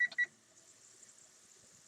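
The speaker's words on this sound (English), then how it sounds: "Start that timer again." A kitchen timer beeps while pork chops in a figgy thyme sauce simmer, giving three quick, bright beeps at the start, followed by a faint, quiet hiss.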